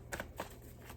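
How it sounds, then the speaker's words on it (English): A deck of cards riffles in a quick, quiet shuffle, a few soft papery flutters in close succession over faint room hiss. "Last shuffle."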